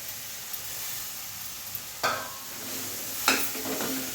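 Bitter gourd stir-fried with softened tomatoes in a pan gives a soft steady sizzle, with two sharper scraping stirs of a spatula partway through; no voices.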